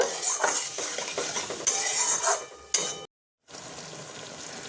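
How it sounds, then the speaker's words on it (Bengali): A spice paste loosened with water is stir-fried and scraped in a wok for a bitter gourd rezala, with clattering metal spatula strokes over a steady sizzle, then a brief silent gap before the frying resumes. "আমি জলটা দিয়ে এবার এটাকে ভালোভাবে কষে নেব"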